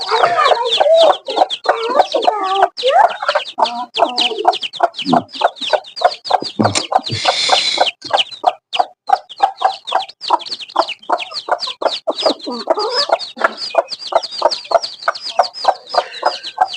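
A broody hen sitting with her newly hatched chicks clucks in a steady stream of short, close calls, with a brief louder burst partway through and no talk.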